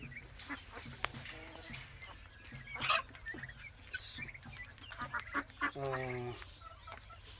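Mixed poultry calls: honking and quacking from waterfowl including Khaki Campbell ducks, with clucks from chickens such as Black Australorps nearby, several overlapping outdoor bird voices at moderate distance.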